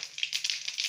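Bay leaf and cumin seeds sizzle in hot oil, a soft, crackly hiss with small popping bursts, close and steady throughout.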